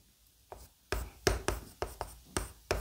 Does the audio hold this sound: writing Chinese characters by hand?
yes